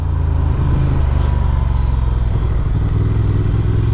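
A Honda Transalp 750 adventure motorcycle, a 2024 model, rides along with a steady, loud, low engine drone and rumbling road and wind noise that carries on without a break.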